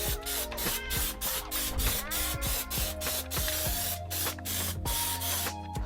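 A thicker coat of Plasti Dip is sprayed onto faceshells in a steady, loud close-up hiss from the aerosol can, broken by brief pauses between passes, with no talk.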